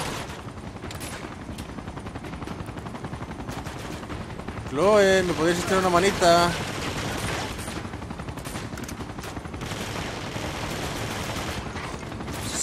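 Gunfire in Uncharted 2 during a firefight with a smoking enemy helicopter: rapid shots crackle throughout, with a louder burst of explosive, whining noise in the middle, while someone talks over it.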